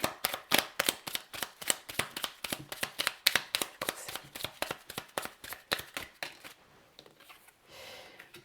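Oracle cards shuffled by hand in a quick, steady run of close, crisp riffling snaps for about seven seconds, then softer sliding rustles as the deck settles, with no talking.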